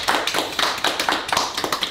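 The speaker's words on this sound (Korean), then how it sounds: "박수" A few people clap in short, quick bursts while reacting to a K-pop music video, with close, crisp claps in an uneven rhythm.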